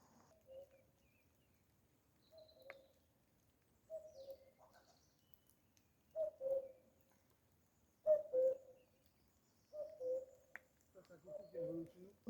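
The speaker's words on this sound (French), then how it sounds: "vous avez peut-être entendu à l'image là le coucou, il vient de passer au-dessus de nous" A common cuckoo calls in Fontainebleau forest, a series of soft two-note coos repeated every couple of seconds in a quiet woodland, faint and somewhat distant, growing a bit clearer toward the end.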